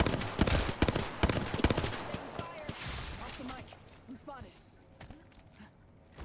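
Rapid bursts of gunfire in the video game Apex Legends, several loud close shots early that thin into scattered fainter shots, with voices talking over them.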